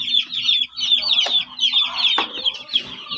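Young chicks peeping and clucking in a brooder pen, a steady chorus of high chirps close by, with a few brief clucks and soft knocks underneath.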